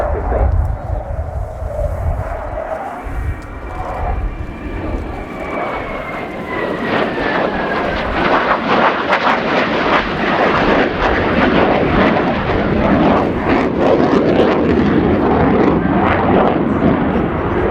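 A Ukrainian Air Force Su-27P1M Flanker with twin Lyulka (Saturn) engines roars through a flying display at an air show, its loud jet rumble swelling and sweeping as it passes, with commentary voices over the top.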